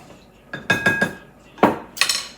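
A spoon mixing mac and cheese ingredients, including an egg, in a dish, heard as a few sharp clinks and scrapes in quick clusters separated by short pauses, close and fairly loud.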